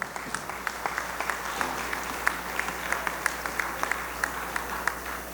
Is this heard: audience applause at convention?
yes